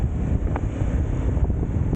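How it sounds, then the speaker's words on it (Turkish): Strong wind buffets the microphone in heavy, rumbling gusts, continuous and close, with a hint of water nearby. "Çok da rüzgar var"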